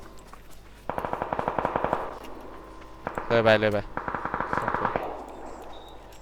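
Rapid automatic gunfire in PUBG with an MK-12 rifle crackles in two long rhythmic bursts, with a short spoken exclamation between them.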